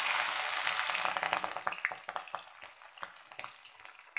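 Onions and green chillies sauté in hot oil for a drumstick-leaf poriyal, starting with a loud, bright sizzle that fades as spatula scrapes tick through in an irregular pattern, close by and without any talk.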